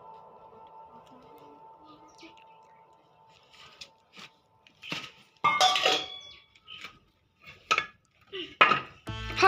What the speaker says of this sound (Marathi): आधी भांडी काढते